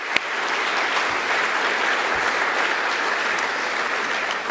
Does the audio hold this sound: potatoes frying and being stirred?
no